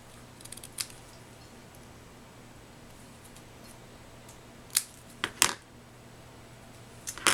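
Scissors snip through paper while a card is crafted: a few sharp, close clicks, scattered and isolated against a quiet background, with no talking.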